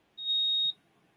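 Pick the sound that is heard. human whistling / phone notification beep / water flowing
phone notification beep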